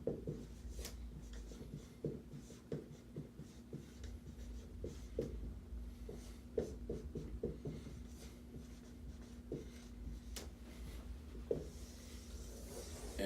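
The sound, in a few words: writing on a board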